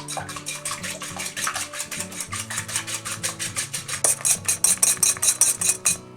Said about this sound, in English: Just whisk it until it's kind of almost foamy looking.